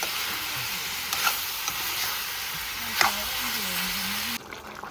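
Potatoes simmer in gravy on a gas stove, with a steady close sizzle and bubbling hiss and a few stirring scrapes, then a sudden drop in the texture near the end.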